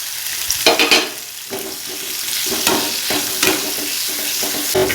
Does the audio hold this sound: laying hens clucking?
no